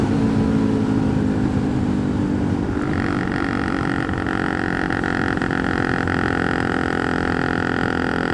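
A 212cc Honda Grom clone minibike engine drones steadily while being ridden, with a small shift in pitch partway through and a rough, slightly uneven tone, close and continuous with no talking.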